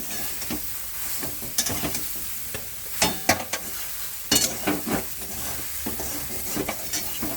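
Masala idli fry gets stirred in a pan with a spatula, producing repeated scraping strokes over a steady frying sizzle, close and fairly loud, with no voices.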